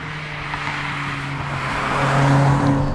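Honda Civic Type R FN2 hatchback on DC5 17-inch wheels, engine droning steadily on the road with tyre roar, swelling slightly louder toward the end, no voices.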